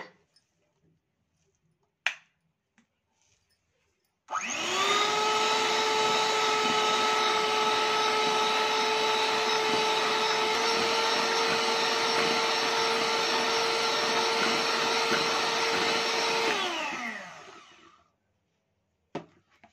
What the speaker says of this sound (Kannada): ಮತ್ತೆ ಬ್ಲೆಂಡ್ ಮಾಡೋಣ.